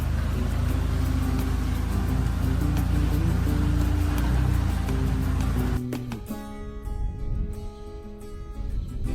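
A hunting truck in Texas pulling away, a loud low engine rumble that drops off sharply partway through, leaving quieter tonal engine noise and rustling, with no talk.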